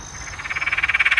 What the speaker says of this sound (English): dwarf tree frog.